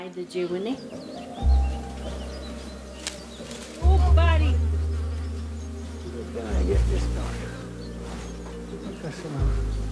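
A swarm of bees buzzes in a dense, wavering drone with low rumbling swells. Voices talk over it throughout.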